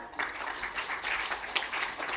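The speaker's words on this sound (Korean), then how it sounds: "큰 박수 부탁드립니다." Seminar audience at the FKI Conference Center in Seoul applauding an inducted association adviser: a brief, dense patter of clapping, moderately close and steady throughout.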